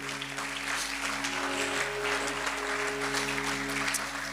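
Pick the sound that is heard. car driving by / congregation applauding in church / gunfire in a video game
congregation applauding in church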